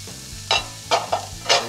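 Celery and carrots sizzle in olive oil in a pan over medium heat, a low steady frying hiss broken by three or four louder stirring scrapes and pops, with no talking.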